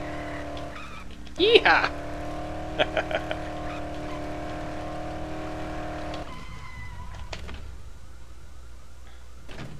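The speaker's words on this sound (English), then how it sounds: "I just love driving in this game." A car driven in the zombie video game Dead Island, its engine droning steadily with a sharp tire squeal and skid near the start, a man whooping briefly over it before the engine sound drops away.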